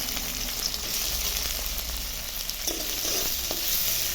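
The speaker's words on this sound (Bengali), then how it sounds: "এখন একটু কড়াই তেল দিয়েছি, একটু পেঁয়াজটা ভেজে নেব" Onion frying in hot oil in a wok, with a steady, loud, hissing sizzle throughout and a few faint stirring scrapes, no voices.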